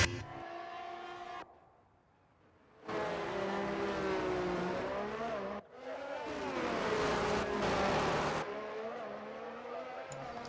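Formula 1 race cars screaming around the Monaco Grand Prix circuit in a racing game, high-pitched engines revving and shifting loudly, with brief quieter gaps between passes and tones sweeping up and down.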